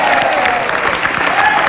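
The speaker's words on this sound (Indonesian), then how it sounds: "Tepuk tangan sekali kita Pak." Studio audience of an Indonesian TV talk show applauding loudly and steadily, a dense wash of clapping that fills the whole moment without a break.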